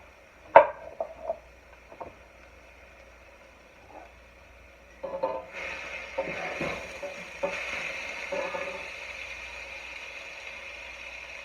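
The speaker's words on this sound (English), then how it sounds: "I'm going to turn this wok on high because I want this to sizzle real good." General Tso's chicken, crispy and coated, hitting a wok turned up to high heat, starting with a few sharp clacks and clatters before a steady sizzle builds and continues with stirring and scraping noises.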